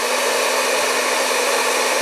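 A 2000-watt hair dryer running off a portable power station, a loud steady blowing whoosh with a constant motor hum and no pauses.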